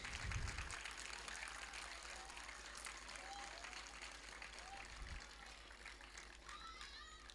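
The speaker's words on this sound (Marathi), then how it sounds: "ही माझी मुलांची जी टाळी आहे ना, ही माझी अचीवमेंट आहे" Schoolchildren clap together in a steady, lively round of applause, with children's voices and shouts audible among the claps throughout.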